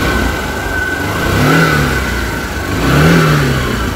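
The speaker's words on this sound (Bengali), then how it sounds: "সেকেন্ড গিয়ার দিয়ে একটু গাড়িটাকে একটু এক্সিলারেট করে নেবো" A Honda Shine SP 125 motorcycle engine idles steadily, then revs up twice in second gear in rising, swelling bursts before settling back, loud and close.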